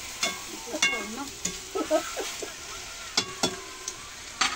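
Ingredients stirred and fried in a kadai before water goes in for a Nepali onion and fish dish, giving irregular scraping stirs and clinks over a soft sizzle, close and moderately loud.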